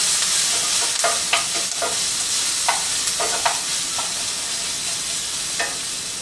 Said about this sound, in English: My onions are starting to brown.